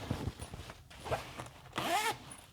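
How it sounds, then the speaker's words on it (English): A zipper on the pocket of a handmade bobbin lace bag is drawn open and closed in several short rasping strokes, close and clear, the last pull longest, with faint handling noise between. "It zips smoothly."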